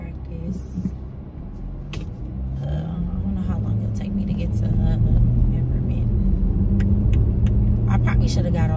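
Inside a moving car on a city drive, a low engine and road rumble that builds steadily, with someone talking over it and a few faint clicks and rattles in the cabin.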